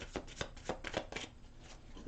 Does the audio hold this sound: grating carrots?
no